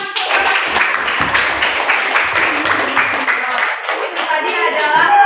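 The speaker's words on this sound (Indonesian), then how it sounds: "Oke, tepuk tangan." A classroom of students clapping after a group science presentation, steady dense applause close by, continuing without a break and with some background chatter mixed in.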